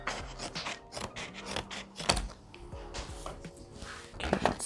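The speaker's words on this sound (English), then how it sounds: "this isn't the easiest thing to cut either, so you might want to get a pair of good scissors" A pair of scissors cuts through a tough craft material for a simple DIY gift, making repeated rough snips and scraping rubs close to the microphone.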